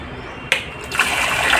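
Water starts flowing from the gate of a model dam in a school hydroelectric demonstration, beginning with a sudden splash and then settling into a steady gushing rush that goes on without pause.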